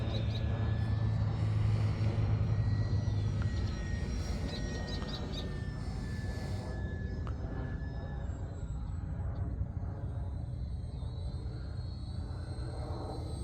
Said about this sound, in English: Hear the full scale jet going overhead.